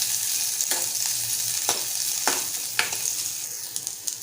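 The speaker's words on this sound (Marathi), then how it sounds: "एक छोटा कांदा उभा चिरून घेतलाय, तो घालूया। आणि छान परतून घेऊया लालसर होईपर्यंत।" Thin-sliced onion fries in a pan with a small spoonful of oil for a Malvani-style sprouted white vatana dish. A steady, close sizzle carries through, broken by several sharp scraping stirs, and no one speaks.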